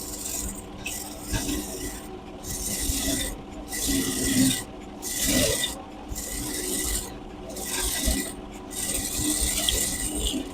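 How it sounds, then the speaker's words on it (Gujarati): A sewing machine stitches the neckline of a baby girl's blouse, with a rhythmic run of rasping, clattering mechanical bursts that repeat about every second at moderate, close-up volume. "હવે હું ગળાની સિલાઈ કરી નાખીશ."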